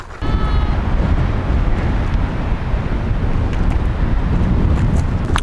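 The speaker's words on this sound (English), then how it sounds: "it's very windy up here" Strong mountain wind on the Icefields Parkway roars and buffets steadily against the microphone, a loud continuous low rumble.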